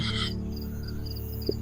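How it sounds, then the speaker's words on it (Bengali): Crickets chirp in a steady, continuous drone at night on a desert farm near Jeddah, the rapid pulsing trill holding close and even throughout with no voices. "ঝিঝি পোকার ডাক শুনতে পাচ্ছি"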